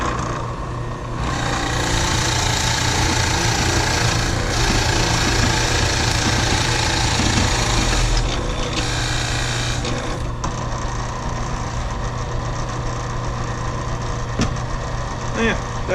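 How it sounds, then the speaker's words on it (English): A 3/4 inch Forstner bit bores into wood, a loud continuous grinding whir close by that runs almost without a break and shifts slightly in tone partway through. "I went around the perimeter, inside perimeter, with the 3/4 inch Forstner bit"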